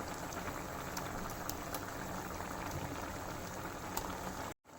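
A pot of spring onion paneer egg curry boils on the stove with soft, steady bubbling and small popping bursts close by, then cuts off abruptly near the end.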